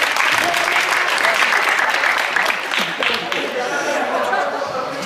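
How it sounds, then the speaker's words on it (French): Applause from a crowd at a Paris sports tournament, a steady wash of clapping with some chatter and light laughter mixed in, loud and sustained throughout. "Je peux les applaudir."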